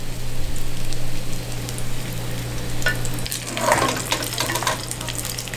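Shrimp fry in oil in a pan, a steady crackling sizzle with sharper pops and spatters building in the middle, close and clear with no talking.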